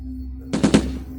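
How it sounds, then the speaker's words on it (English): Gunshots as a sound effect in an audio drama: two or three quick, sharp bursts in fast succession, loud and close, over a low steady hum. "And then I heard the shots."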